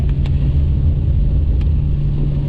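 Nissan R34 Skyline GT-R driving in rain, a steady low engine and road rumble with constant tyre hiss from the wet surface, close and continuous without voices.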